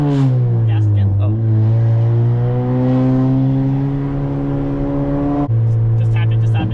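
A 10th-gen Honda Accord 1.5T with a KTuned 3-inch exhaust drones loudly at a held rev. It dips and then climbs to a steady hum before a sharp step near the end, close to the tailpipe, with voices faintly underneath.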